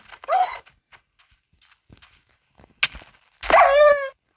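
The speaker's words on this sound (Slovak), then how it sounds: "Tento tu pes zabil ovcu." Dog barking inside a Slovak-language farming video game where dogs kill sheep: one short bark near the start, then a louder, longer tonal bark-whine toward the end, with quiet clicks between.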